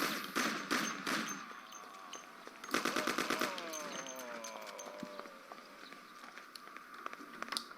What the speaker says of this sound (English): As you can hear, the sniper is shooting at the worker.